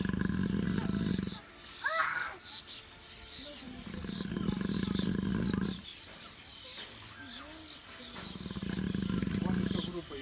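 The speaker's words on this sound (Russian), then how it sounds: "Друзья, вы слышали, как храпят львы?" Several sleeping lions snore in loud, rough rumbling bursts that come in long breaths, pausing between them. A nearby person speaks quietly over the snoring, and other lions are heard further off.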